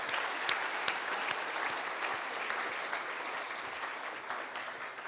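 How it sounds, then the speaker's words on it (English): An audience at an economic summit in Niagara applauds warmly, a continuous dense patter of many hands with a few sharper nearby claps standing out, steady for the whole stretch and free of speech. "Please join me in the biggest round of applause for Dr."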